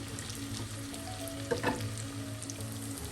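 Long-cut brinjal frying in oil with turmeric powder, a continuous close hiss of sizzling with a brief clatter of stirring midway, no voices.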